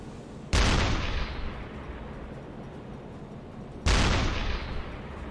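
Two heavy booming shots from a U-boat deck gun firing at ships in a submarine video game, each a sudden loud blast followed by a long rumbling decay, spaced a few seconds apart.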